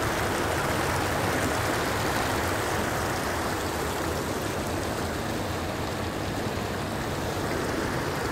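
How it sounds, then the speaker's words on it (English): A loud, unbroken rush of running water, dense and steady like a stream or small waterfall, close by with no voices. "This is just running water."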